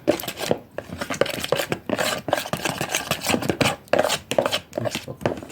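Minced garlic and yogurt stirred together in a bowl, a continuous run of close, loud scraping and rubbing strokes of a utensil against the bowl, with no voices.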